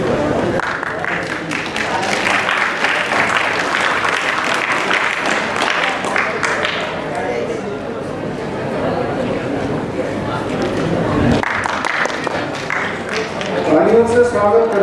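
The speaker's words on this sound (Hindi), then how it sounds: "तालियों से स्वागत करते रहें।" A crowd at a school maths-science fair ceremony claps throughout in sustained, fairly loud applause, with some chatter mixed in and a swell near the end.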